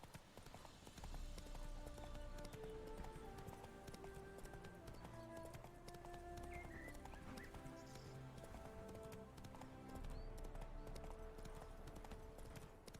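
Geralt's horse Roach in The Witcher 3: Hearts of Stone, hooves clip-clopping in a steady galloping rhythm, close and continuous, with game music tones layered underneath.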